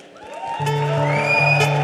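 A conference audience cheers and whoops for the singer at SYCon 2015, with rising, sustained shouts and a bright, high whoop over a loud crowd. Scattered clapping sits under the cheering.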